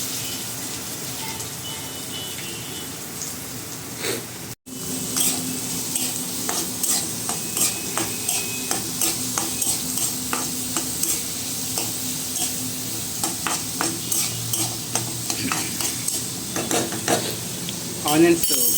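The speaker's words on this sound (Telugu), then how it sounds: "ఆనియన్స్ వేసేస్తున్నాం" Onions for a chicken curry sizzling in hot oil in a pan, stirred with a spatula in a steady series of scraping strokes over a continuous close fry, with a brief dropout early on and no talk.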